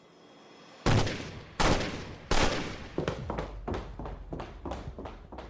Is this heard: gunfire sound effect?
yes